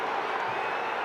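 Rugby league stadium crowd at a 1996 Auckland Warriors versus Brisbane Broncos match reacting to a penalty decision, a dense, steady roar of many voices filling the whole moment without a break.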